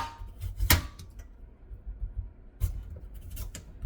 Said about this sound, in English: I'm going to peel this off. kind of hard